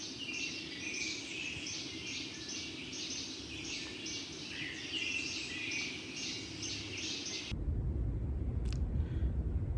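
Birds sing in a forest in the early morning, many bright chirps and trills repeating steadily over a low background hum with insect-like buzz; the birdsong stops abruptly near the end, leaving only rumbling noise.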